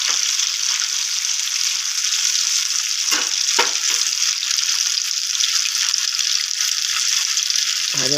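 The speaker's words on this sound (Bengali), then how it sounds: "ভাজা হচ্ছে, এবার ভাজা এক পিঠ হয়ে গেলে পরে উল্টে দেবো।" Poha chila, a flattened-rice pancake, frying in oil gives a steady, close sizzling hiss throughout, with a couple of brief utensil knocks partway through.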